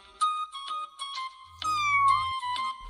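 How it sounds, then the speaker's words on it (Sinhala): A cartoon kitten meows repeatedly in a Sinhala-dubbed animation, with a series of short, high, close calls followed by a longer drawn-out meow over a faint low hum, with no talk. "මෙන්න දෝනි වගේ පූස් පැටියා"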